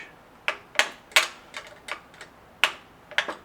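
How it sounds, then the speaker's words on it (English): A 3/16 Allen wrench tightening small bolts on a Jeep JLU Wrangler power tank bracket gives sharp metallic clicks and ratchety ticks in irregular bursts, close and crisp with quiet gaps between. "So we're using the 3/16 Allen wrench to tighten these smallest bolts down"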